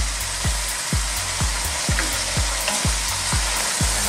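Chicken sotanghon guisado sizzles steadily in a pan while a utensil stirs it in a regular rhythm of about two strokes per second, close and fairly loud, with no talking.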